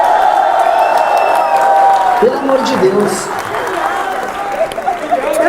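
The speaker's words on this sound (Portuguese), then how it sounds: "Mais palmas aqui, cara." Political rally audience in Santos applauding and cheering for Renan Santos, a loud continuous wash of clapping and whoops with a voice speaking over it and the noise dipping briefly midway.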